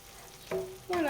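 Butter melting in a pan for a strawberry gratin-style tart gives a soft sizzle, with two brief louder bursts of frying hiss and a faint scrape, close by and with no talking.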